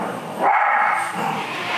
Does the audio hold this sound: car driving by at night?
no